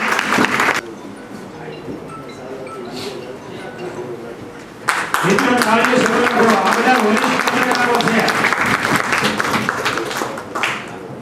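Audience applause with dense clapping at a journalists' association get-together at the circuit house in Bhavnagar, swelling suddenly midway and continuing steadily, with people talking over it.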